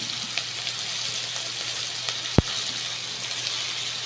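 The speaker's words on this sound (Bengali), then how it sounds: "পেঁয়াজটাকে এবার ভাজা করে নেব।" Chopped onions fry in oil in a wok with a bay leaf and cardamom, a faint, steady hiss of sizzling with one sharp click midway.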